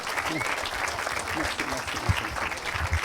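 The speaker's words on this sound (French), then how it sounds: "Je vous prie de faire un tonnerre d'applaudissements à Loïc Simon pour l'organisation parfaite de" Audience applause fills a conference hall at a social selling forum in Nantes, a steady dense wash of clapping lasting a few seconds with some voices mixed underneath.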